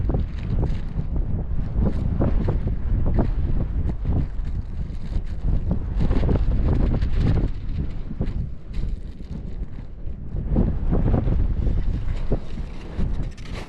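Strong wind roaring across a snowy mountain summit during a snowshoe climb, heavy continuous buffeting of the microphone in loud gusts, with almost no talk.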